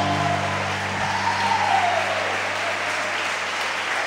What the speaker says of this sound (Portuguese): glorifique e aplauda Ele bem forte